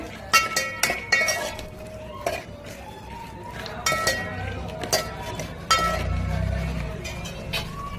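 Rice kheer with almonds, pistachios and raisins being stirred in a metal pot: repeated spoon clinks and scrapes against the sides, irregular and close, with no voice.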